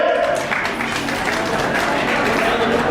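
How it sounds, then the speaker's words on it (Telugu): An audience at a school reunion gathering claps loudly and steadily, a dense, continuous burst of applause with faint voices underneath. "గట్టిగా చప్పట్లు కొట్టాలి"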